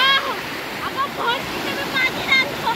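Bhorande waterfall in Malshej Ghat and its river give a steady rushing wash of water, with voices and shouts rising over it in the background.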